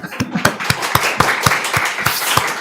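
A church congregation at a Sunday joint worship service at Incheon Pyeonghwa Church claps in a brisk, steady rhythm, each sharp clap clearly spaced and close by.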